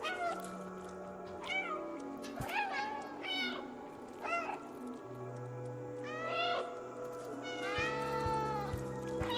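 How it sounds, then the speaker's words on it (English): Repeated cat meows from the video game Stray, several short calls spread across the clip, heard over a steady musical background with low tones. "There's a dedicated meow button."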